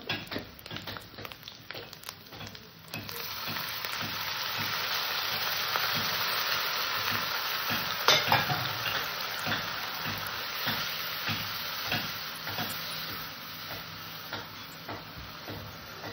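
Spice masala with turmeric and Kashmiri chili powder frying in a pan crackles and hisses loudly, with repeated spatula scrapes and stirs punctuating the steady sizzle up close.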